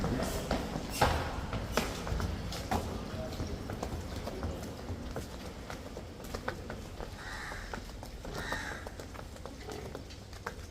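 Buffalo hooves clop slowly and unevenly on the ground as the animal is walked at a farm, with crows cawing faintly in the distance.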